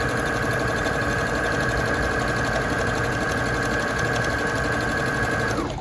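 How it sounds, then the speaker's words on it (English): A sewing machine runs decorative stitching on a quilted tote, a fast, steady mechanical whir and rapid needle clatter, close and loud, running without a pause and slowing only at the very end. "decorative stitching happening now"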